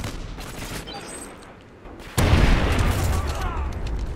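Sustained gunfire in the Call of Duty Vanguard shooter, with a loud burst of rapid shots starting about halfway through and continuing to the end, over quieter background action.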